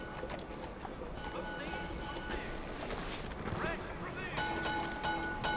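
A horse in Red Dead Redemption 2 clip-clops at a slow walk, its hooves tapping alongside a steady game soundscape, while someone talks over it.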